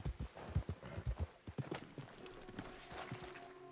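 Horse hooves clip-clop in Red Dead Redemption II, a rapid, close run of hollow hoof beats that slows and fades into softer steps with faint background ambience.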